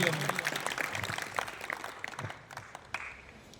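Applause for Jivandada at an Independence Day flag-hoisting ceremony, a crowd clapping in a scattered, moderately loud patter that gradually thins and fades over a few seconds.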